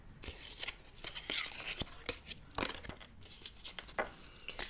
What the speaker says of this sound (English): Let me just continue shuffling.